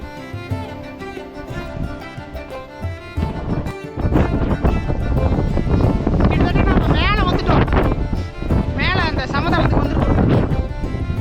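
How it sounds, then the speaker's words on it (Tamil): Strong wind roars through a valley and buffets the microphone continuously, loud and gusty, with people talking underneath. "காற்றுனா பயங்கரமாக அடிக்குது."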